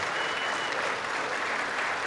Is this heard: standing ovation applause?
yes